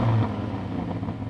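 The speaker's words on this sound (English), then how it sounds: "so go on Jamie, rev up your car." A car engine revs with a low, throaty rumble, starting loudest and settling into a steady idle-like drone.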